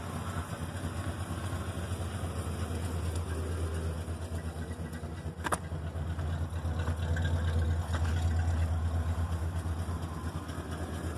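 A 1968 Cadillac DeVille convertible drives along with a steady low engine rumble and road noise, close and continuous, with a brief click midway.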